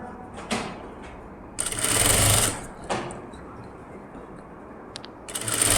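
A sewing machine runs long stitches along a blouse neckline in loud, short bursts with brief pauses between them, close by.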